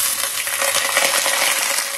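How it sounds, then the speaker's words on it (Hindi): Whole spices with bay leaves, cinnamon stick, chopped garlic and julienned ginger frying in a pan, a dense continuous sizzle with crackling pops throughout, close and alone. "हमारे मसाले अच्छे से भून चुके हैं"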